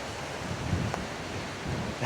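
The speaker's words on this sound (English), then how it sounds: "This wind is insane." Strong wind buffets the microphone on an island disc golf course, making a broad, rough roar with gusts that swell and fade, ending in a sharp blast.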